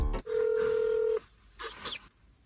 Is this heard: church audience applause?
no